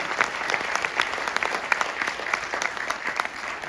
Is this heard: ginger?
no